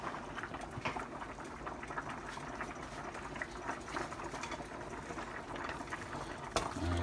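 Pot of spaghetti at a steady rolling boil on the stove, a dense continuous bubbling and hiss with faint scraping as it is stirred, close and even throughout.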